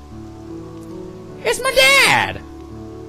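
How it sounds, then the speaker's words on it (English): Rain in the video game Witch's House gives a steady, soft wash of falling water. A voice speaks briefly over it partway through. "And it's raining."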